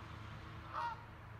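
A goose gives a single short, nasal honk, moderately close, over a low steady hum in a quiet room.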